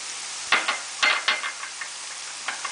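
Onions and garlic frying in a pan for an oyster mushroom dish: a steady broadband sizzle with several short louder crackles and stirring bursts, close and moderately loud, no talking.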